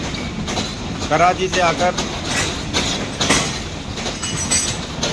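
A train hauled by locomotive PH-208314 arrives at Malakwal Junction, with rumbling rolling noise, rhythmic clatter and faint wheel squeals under someone talking throughout.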